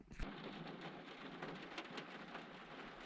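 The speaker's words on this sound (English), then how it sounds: "Rain's dropping down. There's a bit of lightning and thunder every now and again." Rain pattering on a car outside a truck stop at night during a storm, a dense steady hiss with a brief sharp crack at the start.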